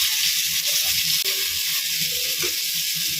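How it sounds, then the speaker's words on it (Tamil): Four thinly sliced onions sizzle and fry in a pan for biryani, a continuous close, crackling hiss with occasional stirring scrapes. "ஒரு 4 வெங்காயம் வந்துட்டு சேர்த்துக்க போகிறேன்."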